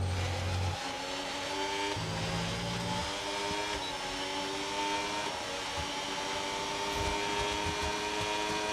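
Cadillac race cars battling on the Silverstone circuit, engines droning steadily with shifting pitch as they pass, a continuous loud motor roar throughout with no voices.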